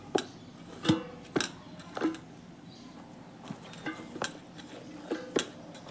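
Wheat flour dough being mixed by hand with water in a bowl for chapathi, giving a series of sharp clinks and scrapes against the bowl at irregular intervals, fairly close and moderately loud, with no talking.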